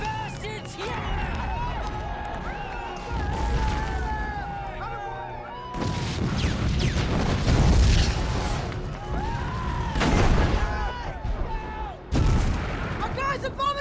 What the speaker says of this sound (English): Our guys are bombing us! Take cover!